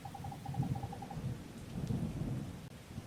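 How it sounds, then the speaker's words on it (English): Thunder rumbling low and steady under a rainy night in the Wargroove game at Cherrystone Castle, with a short series of repeated high hoots at the start and no talk. "Cut it out, it's just thunder."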